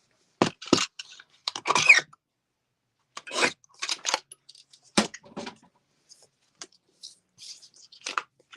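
Scissors make sharp, crisp snips through floral card paper, close up. The cuts come in short irregular bursts separated by brief silences, with no talking.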